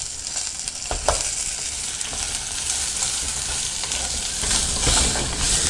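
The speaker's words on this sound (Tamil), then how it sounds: "இது கூட நம்ம கொஞ்சம் லைட்டாக வதக்கிட்டு தேங்காய் ஆட் பண்ணிக்கலாம்." Dried red chilies and grated coconut sautéing in a pan for a Kovai-style brinjal and mochai tamarind kuzhambu, a steady close sizzle with soft stirring scrapes and a couple of sharper clicks, no talking.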